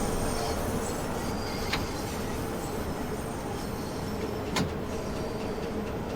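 London Underground train running in the video game Train Sim World 2, a steady loud rumble of wheels on track with faint squeals and a couple of brief clicks, no talk.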